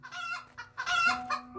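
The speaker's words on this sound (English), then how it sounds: "And a random chicken." A chicken in a Christmas-themed escape room video game clucks in a few quick, close bursts rising into a louder squawk.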